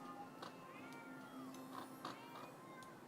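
Several cats in The Sims 4 meow one after another in short, overlapping calls. The meows are fairly quiet and sit over continuous game music or ambience.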